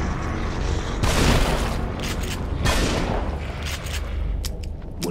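Shotgun blasts in the horror game The Evil Within, two heavy booming shots about a second apart, loud and close, followed by fainter mechanical clicks and rattles of handling.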